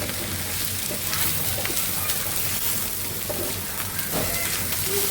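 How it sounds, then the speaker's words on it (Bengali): Bitter gourd (karela) frying in a pan, cooked until slightly charred: a steady, dense sizzle and crackle of oil runs unbroken throughout at moderate loudness, with no talking. "আমার করলা ভাজি ফ্রাই হয়ে আসছে একটু একটু পোড়া পোড়া করে ভাজি করব"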